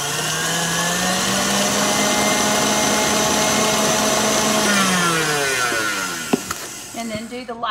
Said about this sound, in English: And we're going to blend it up until it's all mixed in.